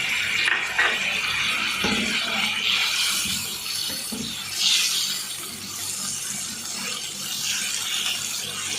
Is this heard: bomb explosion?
no